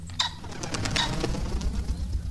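Mechanical birds from the game Sir, You Are Being Hunted give soft, repeated cooing and fluttering chirps over a low rumbling game ambience, fairly close and steady.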